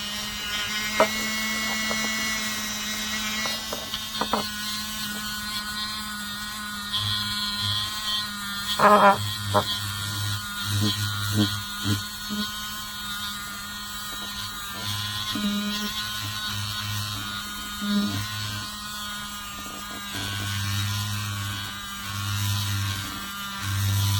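A HARDELL cordless mini rotary tool runs at level 4 with a buffing pad on obsidian, giving a steady high whine. Light, intermittent contact adds rough grinding bursts and a low buzzing hum.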